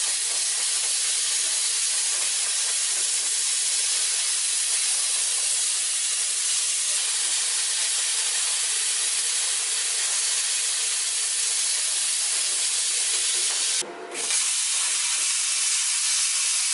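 A plasma cutter hisses steadily as it cuts rusty metal on a Toyota Land Cruiser FJ40, a loud, close, continuous roar of air and arc with one brief break near the end before it resumes.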